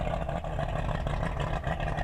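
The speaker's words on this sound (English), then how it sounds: "It has a 200 horsepower V6 two-stroke with 3 deuces in it." An 18.5-foot Hydra Sports VS 150 FF boat with a 200 horsepower V6 two-stroke outboard idles close by with an uneven, loping, pulsing drone that holds steady throughout.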